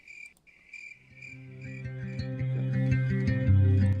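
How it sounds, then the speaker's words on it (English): Crickets chirp in quick repeated pulses at first, then a swelling low, droning harmonic layer builds beneath and grows louder until it dominates. "the natural sound of crickets chirping"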